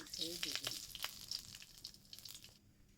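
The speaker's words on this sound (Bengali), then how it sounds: "কড়াই সরিষার তেল দিয়ে তেজপাতা দিয়ে দেওয়া হয়েছে কয়েকটা" A few bay leaves sputtering in hot mustard oil in a wok over a clay stove: crackly bursts and spits that fade toward a quieter end, with faint background voices.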